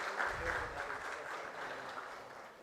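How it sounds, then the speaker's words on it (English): Applause fills an inaugural session hall at a bioenergy summit as a crowd welcomes honorable guests, a steady, moderately soft wash of many hands clapping that tapers slightly toward the end. "A round of applause, please,"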